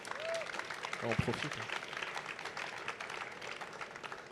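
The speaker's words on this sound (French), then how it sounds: "On peut les applaudir une dernière fois." An audience at a cycling and walking awards ceremony applauding the winners, steady crowd clapping in a hall with a brief spoken phrase and some rustling near the start.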